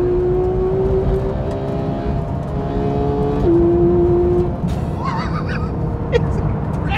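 An Aston Martin V12 Vantage sports car engine accelerating, a loud close roar with rising and shifting pitch across several seconds, with some road and wind noise mixed in.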